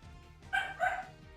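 A pair of short barks from dogs somewhere off in the background, two bursts close together, heard alone without any talk.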